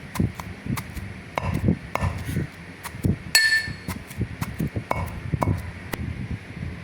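Rice flour mixture for thullu maa urundai pounded in a mortar, repeated dull thuds in an uneven rhythm mixed with sharper knocks and a metallic clink, close and loud.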